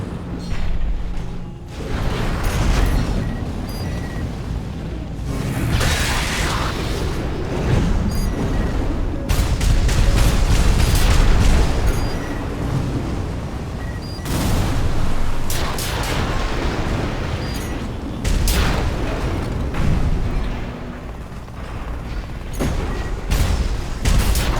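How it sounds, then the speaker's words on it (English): Missiles launching and detonating in the video game Armored Core 6, a dense, continuous barrage of loud booms and blasts with rumbling low end, repeated explosive bursts throughout and no pause in the battle noise. "Use your missiles."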